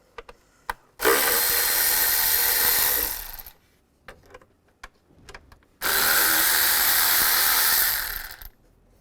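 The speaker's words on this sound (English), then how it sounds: "Using a 6mm hex bit or an Allen bit, you want to take off these screws right here," A power driver with a 6mm hex bit spins screws out of the engine cover on a 2003-2010 BMW X3 in two loud, steady whirring bursts of a few seconds each, separated by clicks and handling sounds.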